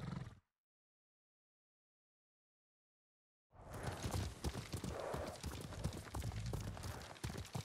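In the video game Ghost of Tsushima, after a brief sound and a few seconds of silence, hooves clop rapidly and loudly on the ground with a horse snorting among the steps.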